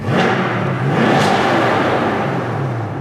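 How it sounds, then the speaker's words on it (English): A 2021 Chevrolet Corvette C8 engine revs loud and close, its exhaust valves opening, roaring and rising in pitch before settling into a steady, throaty rumble. "Flip it over to support, hear that, get a little louder. The exhaust opened up."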